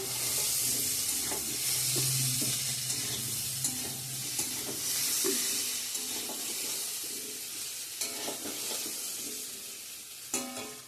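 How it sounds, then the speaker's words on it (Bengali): Taro fried with spices in a pan sizzles steadily while a spoon stirs and scrapes, giving repeated clinks and scrapes over the constant frying hiss, close and with no talk. "কচুটা মশলার সঙ্গে কষানো হয়ে গেছে এখন জল দিয়ে দেবো"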